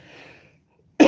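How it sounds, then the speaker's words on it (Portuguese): A single sharp cough bursts out near the end, loud and close, after a soft murmur of background noise and a moment of quiet. "eu tô com tosse, né? É o frio"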